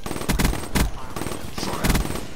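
M8A7 rifle fire in Black Ops 3 sounds as three quick, loud, close bursts of shots spread over about two seconds, with game sound underneath.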